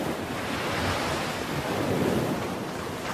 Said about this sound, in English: They saw the vast thundering ocean. There was just lots of water and gigantic waves everywhere.